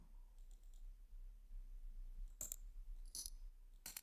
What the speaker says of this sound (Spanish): Y ya debería de estar sonando los clics de ratón.